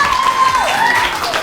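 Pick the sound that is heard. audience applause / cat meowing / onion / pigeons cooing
audience applause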